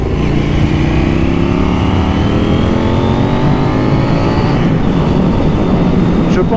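KTM 790 Duke motorcycle engine under way, loud rising revs climbing through gears with pitch sweeps and wind rush, close and continuous.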